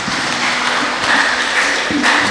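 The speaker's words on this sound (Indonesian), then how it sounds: "Tepuk tangan untuk Ibu Narti" Church congregation applauding during a Sunday morning service in Central Lampung, a steady dense patter of clapping filling the room, with a faint voice near the end.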